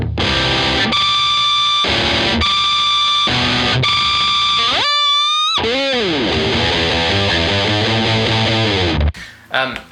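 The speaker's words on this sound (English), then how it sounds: "I do a lot of sustainer stuff and kind of picking behind the nut." Heavily distorted electric guitar with a sustainer holds long ringing notes, then breaks into bending, warbling tones from picking behind the nut, loud and upfront, cutting off abruptly near the end.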